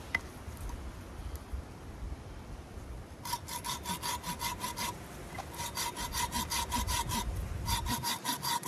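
A hand saw cuts a stop cut into wood in quick back-and-forth strokes, close and crisp, in two bursts of rhythmic rasping separated by a brief pause.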